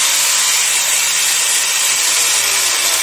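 Angle grinder with its abrasive disc switched on and running steadily, a loud constant high-pitched whine filling the whole moment with no talking.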